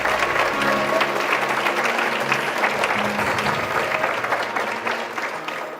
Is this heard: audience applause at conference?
yes